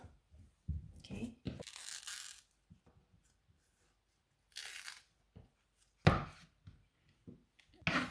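A knife cutting a peeled, firm, not-too-ripe banana in two, heard as a few close, sharp cutting and tapping knocks on a board, scattered between quieter pauses.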